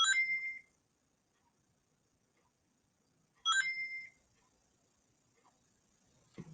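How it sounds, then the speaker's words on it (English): Two short bursts of a phone notification chime, each a quick bright tone sequence, sound about three seconds apart in an otherwise quiet room. "my phone's going off"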